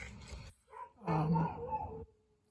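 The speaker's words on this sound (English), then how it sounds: "You'll forgive the dog in the background." A dog barks and yips in the background of an indoor lock repair, giving a short burst of sharp barks followed by a longer whining yelp, moderately near but not loud.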